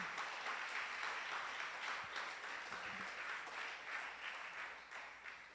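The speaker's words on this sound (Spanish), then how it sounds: "Dele un aplauso al Señor fuerte porque Él vive." A church congregation applauds during a sermon, a steady wash of many hands clapping that sounds distant and faint, with no talk over it.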